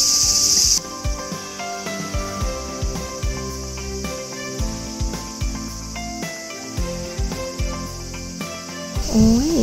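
Crickets chirp steadily in chorus on a summer day in an old historic district of Kanazawa, Japan, a continuous high trill laid over music with many tones and no talking.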